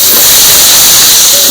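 Ginger paste hits hot oil with a loud, dense, continuous hissing sizzle, close and unbroken, with no voices.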